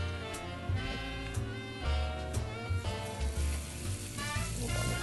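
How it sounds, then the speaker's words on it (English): Steak Diane seasoned with black pepper and salt sizzles loudly and steadily while frying in a pan, with crackling spatter and a few brief bursts of stirring. "You know, that's a good sizzle."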